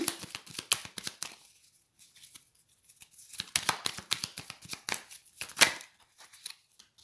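Tarot cards are shuffled by hand in rapid bursts of crisp riffling, with short pauses between bursts; close and moderately quiet, no talking.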